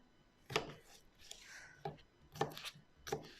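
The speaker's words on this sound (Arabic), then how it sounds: "دلوقتي أنا هبدأ إيه أقطع المكونات دي كلها، برضو إيه تقطيعات كبيرة" Vegetables being cut into large pieces on a board, with four distinct knife chops spaced unevenly, close and fairly quiet, plus light handling sounds between them.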